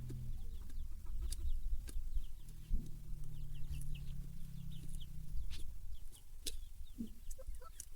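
Chickens at a rural farm in Laos cluck repeatedly in short scattered calls, some near and some farther off, over a low outdoor background with a brief low hum in the middle.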